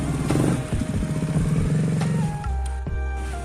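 Repaired KTM Duke 250 motorcycle engine running nearby, a loud, throbbing idle with a few clattery blips of throttle, then settling into a lower, steady rumble.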